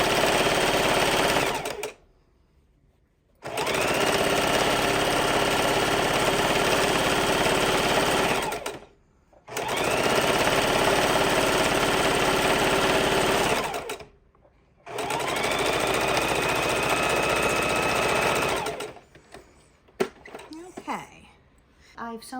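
A sewing machine stitching around a Christmas stocking, running in three long steady buzzing bursts separated by short pauses, loud and close, with faint handling noise at the end.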